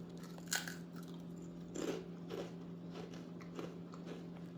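Crunchy smoked-salmon-flavored potato chips bitten and chewed close up, a few sharp crackling bites followed by softer, steady mastication over a low background hum, with no talking.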